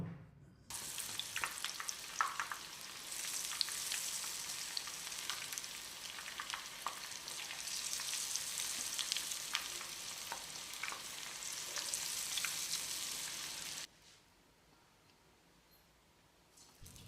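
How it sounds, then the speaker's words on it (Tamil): Ivy gourd (kovakkai) pieces deep frying in hot oil over a medium flame give a steady, dense bubbling sizzle that fills about thirteen seconds, with scattered crackles, then drop suddenly to near quiet. "இப்போ இதை எண்ணெயில் பொறிச்சு எடுத்துடலாம்"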